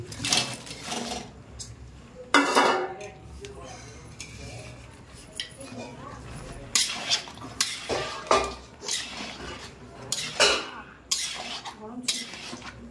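Large chicken pieces and capsicum stirred in a hot kadai: repeated loud metallic scrapes and clanks of a spoon against the pan in irregular bursts, over a low background murmur.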